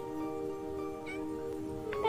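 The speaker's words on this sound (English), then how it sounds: "Good morning, Kitty." A cat gives a clear, close meow, then a second shorter one near the end, with a faint background hum and no talking over it.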